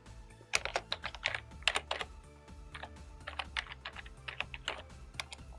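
Keys clatter in irregular bursts as a web mail server address is typed on a computer keyboard, close and fairly quiet with no voice over it.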